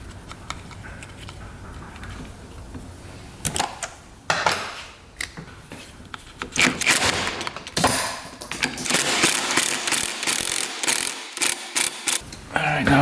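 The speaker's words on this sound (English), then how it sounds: "Now you can get your nut on with the washer." Nut and washer being tightened onto dirt bike parts during reassembly, giving a run of close, rapid metallic ratcheting clicks in bursts, with brief clanks of parts between them and no talking.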